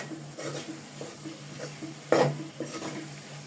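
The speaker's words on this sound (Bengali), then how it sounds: "এখানে আমি কিছুক্ষণ পরপরই তেল দিয়ে সুন্দর করে ভেজে নিচ্ছি।" Chickpea lentil halwa fries gently in oil in a pan, a soft sizzle under repeated stirring and scraping, with one louder utensil clank partway through.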